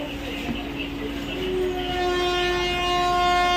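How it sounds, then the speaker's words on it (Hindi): An Indian passenger train sounds its horn at a station, a long steady tonal blast that swells louder over a rumbling railway background, with faint voices nearby. "देखिए हॉर्न बज गया"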